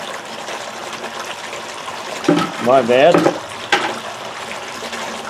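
Water poured into a clean-up sluice trickles and splashes steadily close by, with someone briefly speaking over it midway.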